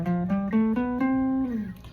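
A major scale played on an instrument as a rising run of sustained, clear pitched notes, about six steps over two seconds, ending with a gentle fade, close and alone.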